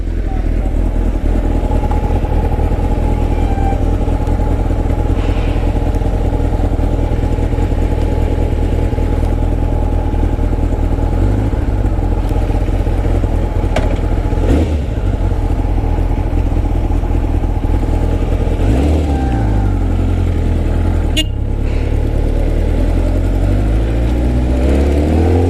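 A Kawasaki ZX9R motorcycle engine drones steadily while riding after an oil sump crack repair, loud and continuous with slight shifts in pitch and heavy wind rumble, and a voice talks over it at times.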